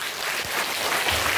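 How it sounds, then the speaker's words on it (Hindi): Applause from a school audience for the children at a class 6th–7th inter-house competition, a brief burst of dense, steady clapping with no talk. "एक बार जोरदार तालियां सारे बच्चों के लिए"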